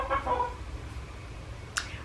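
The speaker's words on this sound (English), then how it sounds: "Also, I apologize for any chicken noises you might hear." A pet chicken gives a few soft clucks near the start, then one sharper squawk toward the end, over a low background rumble, with no talk.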